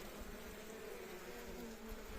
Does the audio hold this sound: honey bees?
yes